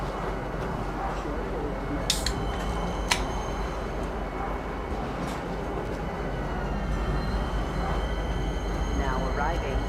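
A metro train pulls into Metro Center station, a loud, steady rumble of wheels and carriage noise filling the whole stretch with a few brief metallic squeals and clanks.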